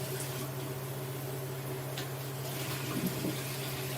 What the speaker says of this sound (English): now I'm going to go ahead and pour the 2 cups of liquid on top of this